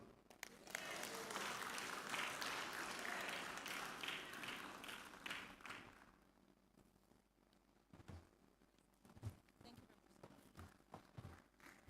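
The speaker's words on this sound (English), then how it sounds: "Please, a round of applause" A graduation ceremony crowd claps and applauds steadily for several seconds, then the clapping thins into scattered taps and faint voices.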